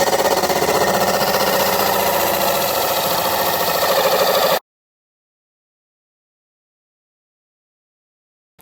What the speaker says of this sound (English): So here we go, we're going to drill the hole right now.